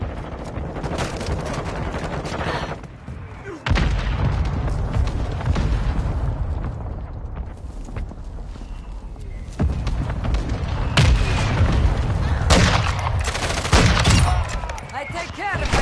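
Mortar strike explosions and rattling gunfire in Modern Warfare 2, a loud chaotic barrage of booms and bursts with sharp blasts near the end, with voices calling out over the combat.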